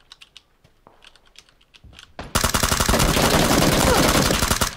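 Gunshots in the video game PUBG: after a quiet start with light clicking, a loud sustained burst of rapid automatic fire suddenly takes over and continues to the end.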